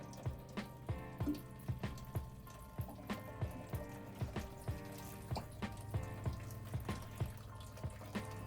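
Water draining and dripping out the bottom of a bucket of freshly watered strawberry plants mulched with straw, a steady trickle with rhythmic drips close by.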